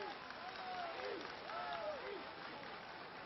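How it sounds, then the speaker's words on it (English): Crowd applauding at a sporting event, a steady muffled wash of clapping and crowd noise on a bandwidth-limited old recording, with some faint gliding tones and voices underneath. "Et le public applaudit."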